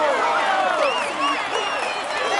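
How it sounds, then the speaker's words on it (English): A stadium-like crowd in a Tour de France cycling video game applauds and cheers a rider, a dense continuous wash of clapping with whistles and shouts rising over it, loud and steady throughout. "He is in sparkling form and you can clap him loudly."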